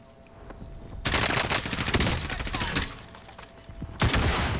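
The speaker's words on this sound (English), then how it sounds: "Again, rocket launcher there." Rapid gunfire and explosive blasts from a rocket launcher in the battle royale video game Warzone, loud bursts of automatic fire with a heavy blast at the start and another near the end.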